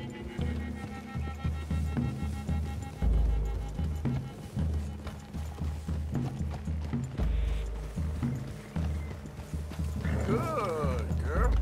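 Horse hooves clip-clop in steady rhythm with a whinny in Red Dead Redemption 2, riding through woods toward a clearing, with mechanical clicks and music underneath and no one speaking over it.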